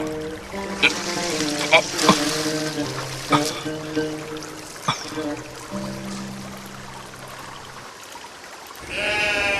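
Sheep bleat in a dramatized scene, with several short wavering calls close by over a musical soundtrack and background noise, followed by a quieter stretch.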